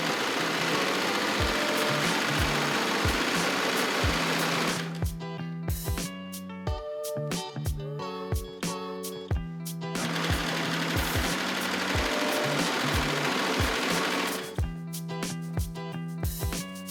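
Sewing machine topstitching a pair of plaid Lane pants, running in steady mechanical bursts of rapid stitching with brief pauses between passes, close and fairly loud with no talking.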